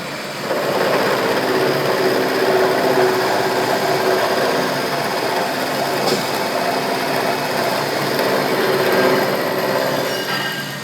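An end mill cuts a shoulder on a milling machine, producing a steady loud grinding whir that holds for the whole stretch over a constant motor hum, with no talking.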